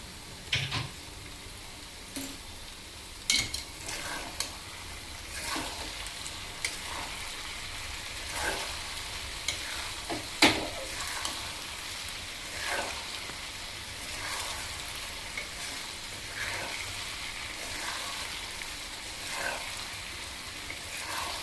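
Thinly sliced onions fry in a pan for Andhra-style ladies finger fry, a soft steady sizzle with scattered pops and occasional clinks of stirring, moderately quiet and without speech.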